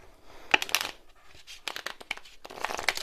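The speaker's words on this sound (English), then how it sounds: "Riffle shuffle." Playing cards being riffle shuffled by hand, a few quick crisp fluttering bursts with soft taps in between, close and fairly quiet with no talking.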